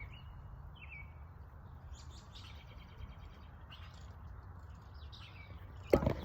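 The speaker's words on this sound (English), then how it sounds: "I even love being graced by the sparrow." A sparrow chirps in short, faint high tweets scattered over a few seconds against a quiet outdoor background, ending with a brief louder knock near the end.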